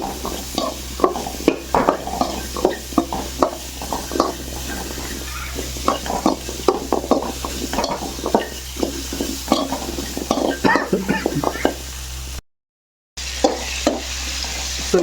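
Homemade pickle stirred and fried in a pan, with loud close frying sizzle and a rapid string of spatula scrapes and clacks against the metal, broken by a brief dropout near the end.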